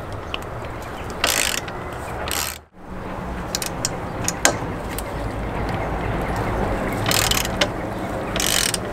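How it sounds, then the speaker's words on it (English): A hex key works on the Allen head bolts of a motorcycle rear brake caliper, giving a loud, close run of ratcheting metallic clicks and scrapes, with a brief pause partway through. "Next step is to remove these two Allen head bolts."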